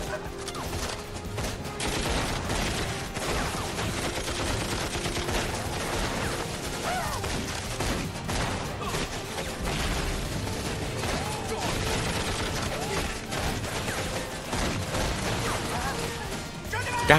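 Gunfire in an action drama, with shots and crashes scattered through a dense, loud, continuous mix of music and effects while voices shout underneath.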